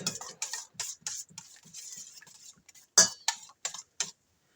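A spoon stirs cupcake batter made with oil in a bowl, with close, rhythmic scraping and clinking strokes at a steady pace and a sharper knock near the end.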